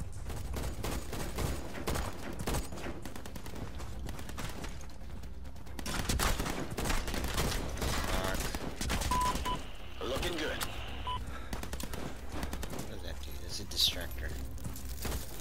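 Rapid gunfire from weapons in the Dead Alliance video game crackles in dense, uneven bursts throughout, with sharp metallic clatter and occasional louder shots, while a voice talks over the fighting.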